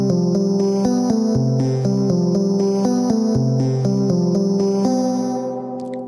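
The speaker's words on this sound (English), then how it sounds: "this one is used to generate a simple melody, which sounds like this." A simple synth melody plays from a Bliss Alpha synth driven by a PolyBud sequencer: a bright, clean run of stepped notes over a steady repeating pattern, loud and alone, with a brief trailing shimmer at the end.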